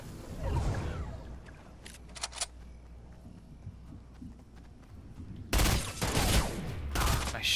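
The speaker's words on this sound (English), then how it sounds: "He sniped me for 100." Sniper gunfire in a video game, a few sharp, loud cracks and bursts over quieter game ambience, with a cluster of heavy shots near the end.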